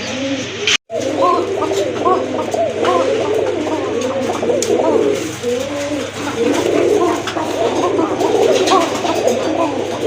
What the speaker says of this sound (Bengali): মাশাল্লাহ এক জোড়া কোকা কবুতর এটা কিন্তু দুইটা কবুতরই কিন্তু ডাকে নর মাদি কিন্তু ডাকে